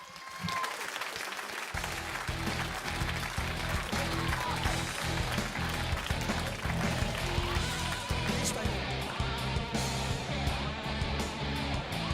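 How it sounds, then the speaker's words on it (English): A crowd at a taekwondo event claps and cheers in a sustained, loud round of applause, with music playing underneath and some voices mixed in throughout. "One more round of applause for that guy now"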